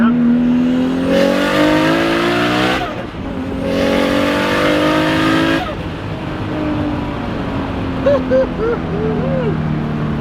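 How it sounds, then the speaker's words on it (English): An 800 HP Toyota Supra with a tuned inline six pulls hard in second gear, the loud exhaust climbing steeply toward high revs, shifting, then rising again before settling into a steady drone, with voices talking inside the cabin. "let's do a little second gear pull here"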